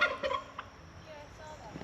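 Turkeys gobbling outdoors on a farm, a few short loud gobbles near the start followed by fainter calls against background noise.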